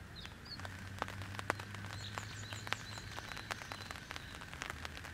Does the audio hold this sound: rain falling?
yes